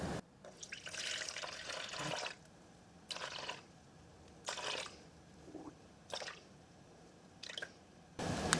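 Water is poured into a container of flour for a sourdough mix, in several short splashing pours with pauses between them, close and fairly quiet.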